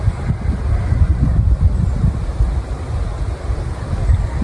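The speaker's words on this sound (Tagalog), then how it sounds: "Sobrang lakas ng hangin guys." Strong wind roars and buffets continuously outdoors where a kite is flown, a heavy low rumble gusting against the microphone with no voices.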